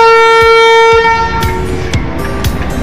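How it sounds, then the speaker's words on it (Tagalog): A passenger ship's horn blasts loud and near in one long, sustained tonal note that fades into harbor noise and faint crowd sounds. "Lakas ang busina, eh."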